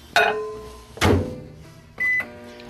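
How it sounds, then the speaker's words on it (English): A microwave oven's control panel gives three short electronic beeps, each separated by about a second, close and clear with no talking. "Now we're going to take this to the microwave."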